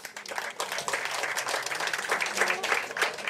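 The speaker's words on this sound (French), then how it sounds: "Sous vos applaudissements, s'il vous plaît." An audience at a French Tech Day pitch contest claps, a close, moderately loud patter of many hands with individual claps audible, continuing unbroken with no speech.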